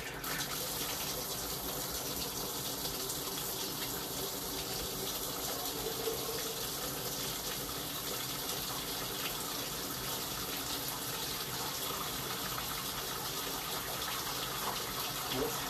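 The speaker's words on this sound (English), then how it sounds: "I'm going to run the tub." Bathtub tap running in a house, its water draining into the sewer pipe during a sewer line inspection; a steady, continuous rushing gush fills the whole stretch at even loudness, with no talk over it.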